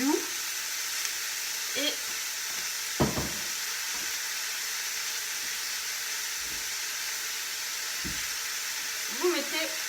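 Apples cooking in a pan over low heat give a steady soft sizzle and hiss across the whole stretch, with a few brief clinks and short spoken words close by.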